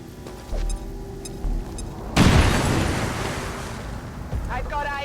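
A grenade explodes in XCOM 2 with a sudden loud boom partway through, followed by a long rumbling decay. It comes after a few quieter footsteps and mechanical clicks.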